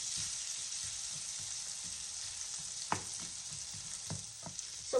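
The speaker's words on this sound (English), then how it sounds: "we're just putting a nice little sear on the sausage" Packaged precooked sausage sears in butter with onions in a pan, a steady broad sizzle running throughout with a few sharp utensil scrapes and clicks near the end.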